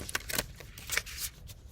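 Tarot cards being shuffled, soft papery riffles and flicks in a few short bursts, quiet and close with no talking.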